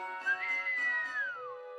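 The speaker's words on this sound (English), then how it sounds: "He sprang to his sleigh, to his team gave a whistle" A single sustained whistle for a sleigh team in a Christmas story cartoon, rising then gliding down over about a second and a half, clear and close with no speech.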